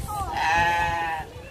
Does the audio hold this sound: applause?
no